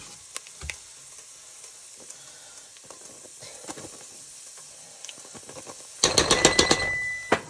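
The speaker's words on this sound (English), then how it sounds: "You just add spoonfuls of flour and you let it cook in your grease." Spoonfuls of flour cook in hot grease for white gravy, giving a steady close sizzle with scattered spoon clicks and scrapes, then a louder burst of frying and stirring near the end; no one talks.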